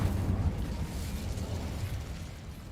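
Incendio fire spell cast in the video game Hogwarts Legacy, a low rumbling whoosh of flame with a muffled burst, sustained and fairly soft.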